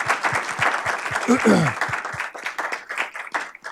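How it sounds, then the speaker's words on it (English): An audience applauds after cardiology fellows' presentations, steady clapping filling the room, while a presenter keeps talking over it. "So they really deserve a big round of applause for that."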